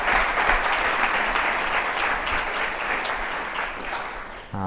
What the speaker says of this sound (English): join me in a round of applause for all of the patients and caregivers that shared